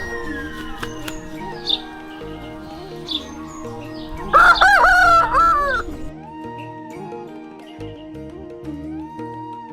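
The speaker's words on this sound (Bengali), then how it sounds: "এই সাদা যে মুরগিটা দেখছেন, এটা নতুন তুলেছি, এটা মাংসের জন্য" A rooster crows loudly in the middle of a farmyard with white meat-breed chickens, while soft clucks, chirps and a steady background hum run throughout.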